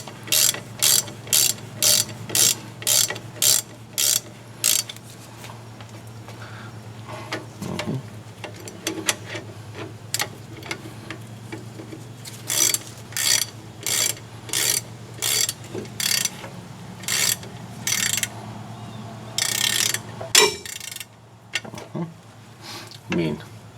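Rear brake bolts on a 2002 Silverado 2500HD are tightened with a hand ratchet, bursts of rapid loud clicking separated by short pauses, close up, with faint background hum.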